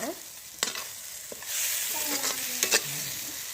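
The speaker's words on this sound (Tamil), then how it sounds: "ஒரு கிளறி இறக்கிடலாங்க" Pirandai pickle is stirred in hot oil, giving a soft steady sizzle broken by a few sharp scraping and tapping strokes of the spoon against the pan, heard up close with no voices.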